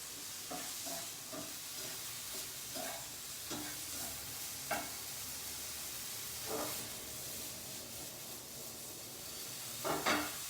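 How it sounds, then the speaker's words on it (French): Bread with eggs cracked into it frying in a pan over medium-high heat, a steady soft sizzle with brief louder crackles and occasional stirring scrapes, no voices. "je vais pouvoir commencer à faire dorer le pain avec les œufs dedans"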